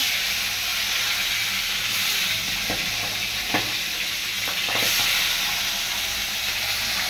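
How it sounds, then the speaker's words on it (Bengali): Fish fries in hot oil in a pan for a light summer fish curry, giving a loud, steady hiss and sizzle with a few sharp crackles and pops, close by and uninterrupted by speech. "মাছ ভাজতে দিচ্ছি"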